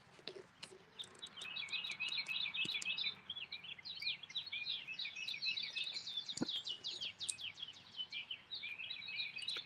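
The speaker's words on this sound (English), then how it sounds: "Listen to the birds calling," Songbirds call in the morning in Indiana, a busy mix of quick chirps and warbled phrases from several birds at moderate distance, with faint clicks and rustles beneath.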